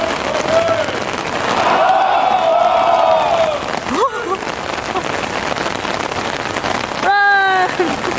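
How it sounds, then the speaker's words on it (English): Heavy rain pours down with a dense hiss in Santo Domingo, while voices shout and cry out over it and a high squeal rings out near the end. "Oh, it's raining so bad."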